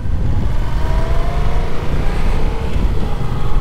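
Yamaha Tracer 700 (MT-07 based) motorcycle engine running under a sensitive throttle, a steady close, loud drone with low rumble and rising harmonic whine, no talk.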